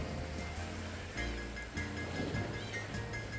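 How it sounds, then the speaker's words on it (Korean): Sea waves washing against the rocky shore beside a coastal walking path on Ulleungdo island, a steady broadband wash with gentle surges, continuous and moderately distant, with no voices. "출렁이는 바다와 이 파도 소리를 들으면서 한 시간 정도를 걸어갈 수가 있습니다"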